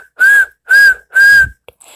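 A boy whistles for his dog: three loud, clear sustained whistle notes of even length with short gaps between, followed by a brief faint chirp.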